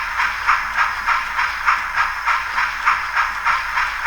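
A TTS DCC sound decoder in a model steam locomotive chuffs in a steady, even rhythm of about two beats per second, each chuff a loud hissing puff over a constant background hiss.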